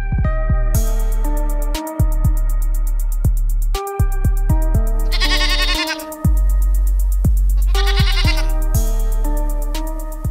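Cartoon goats give loud, repeated bleats in a quick, rhythmic series, close and clear over a steady musical drone, with short pauses between calls and no speech.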